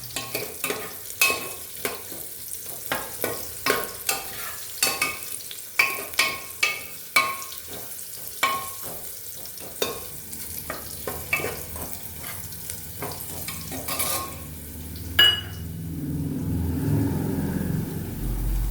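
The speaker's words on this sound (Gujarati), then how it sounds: "હવે આપણે આને થોડી વાર હલાવશું" Kathiyawadi masala khichdi is stirred in a frying pan, with a long run of sharp, regular scraping taps of a spoon against the pan, then a softer sizzling swell near the end, with no speech.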